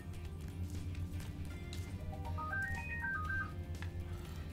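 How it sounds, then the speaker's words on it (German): An in-game telephone rings in Spyro Reignited Trilogy, a short rising and falling sequence of electronic tones that stands out faintly over quiet background game ambience. "Da geht schon wieder das Telefon."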